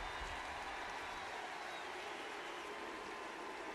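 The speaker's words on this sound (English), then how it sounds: "Crowd roars in appreciation." A football stadium crowd at a Florida State game against Pitt roars in appreciation, a broad, even wash of cheering and applause that holds steady and sounds somewhat distant.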